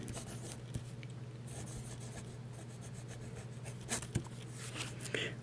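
A Pilot Plumix fountain pen with a medium nib writing on paper gives a steady, close, faint scratchy rubbing with small strokes and taps, under a quiet hum.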